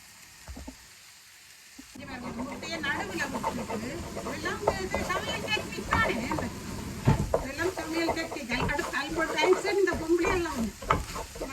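An egg fries in a pan with a continuous crackling sizzle and stirring scrapes, starting after a short quiet moment and staying close and fairly loud.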